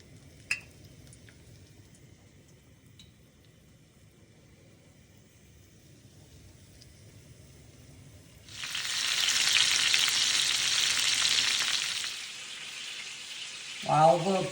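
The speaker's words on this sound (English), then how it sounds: "Let's go ahead and start frying these whatchamacallits." Pork chops start frying in a hot pan, a loud sizzling hiss bursting in partway through after a quiet stretch with faint kitchen noise, then settling down before a brief clatter near the end.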